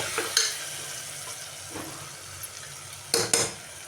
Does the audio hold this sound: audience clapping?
no